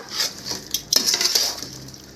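Masala-coated chicken is being stirred and mixed in a pot, close up, with scraping and clinking of a utensil against the metal and a few sharper knocks midway.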